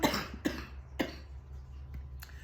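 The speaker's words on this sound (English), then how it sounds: "I have a cold, so I'm just finishing off a cold at the coughing stage" Someone with a cold coughing near the microphone, four sharp coughs spaced about half a second apart, the later ones fainter, over a low steady hum.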